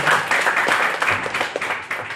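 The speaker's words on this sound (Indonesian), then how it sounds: "Tepuk tangan rekan-rekan." An audience claps at a seminar on Persis and politics, lively applause from a room of people that stays loud and fairly close for a couple of seconds, with no talk.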